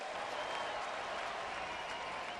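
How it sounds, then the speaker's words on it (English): A home baseball crowd at a Detroit game cheers and applauds in a broad, steady wash of distant noise, late in a lopsided game, with no clear voices standing out. "A little bit of a facetious cheer from the home faithful."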